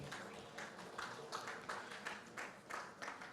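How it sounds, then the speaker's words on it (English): Faint, distant applause from an audience at a business forum, steady clapping with soft rhythmic swells and no voices. "A round of applause for our Registry Chief Executive."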